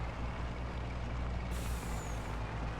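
Truck air brakes in the video game Farming Simulator 22, a loud steady hiss over a low engine rumble, with a sharper high release whoosh partway through, no talk.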